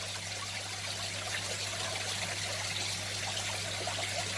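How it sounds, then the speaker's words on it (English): Water with shrimp in it is poured slowly into an aquarium tank, making a faint, continuous trickling stream over a low steady hum. "Now we can slowly pour these guys in"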